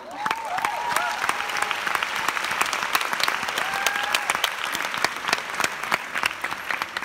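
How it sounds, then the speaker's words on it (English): Steady applause from a conference audience in Barcelona fills the room for the whole stretch, dense and even, with a few brighter individual claps and faint whistles or cheers rising over the crowd. "vous pouvez vous applaudir pour ça"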